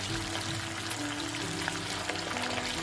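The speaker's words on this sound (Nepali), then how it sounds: "यसरी 2 चोटि गरेर फ्राई गर्दैछु है त।" Fish frying in a pan as part of a village-style Nepali fish curry, a steady close sizzle with a low hum beneath it, continuous and even throughout, no voices.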